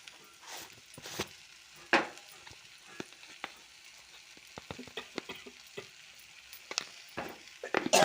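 Onion pieces sizzle quietly in a pan for bitter gourd curry, broken up by irregular scraping and tapping as a spatula stirs them, close and fairly soft.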